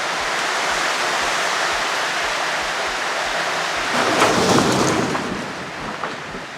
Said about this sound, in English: Well, a little bit of rain, alright